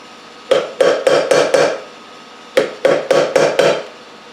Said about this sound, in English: I'm going to have to whack on them a little bit more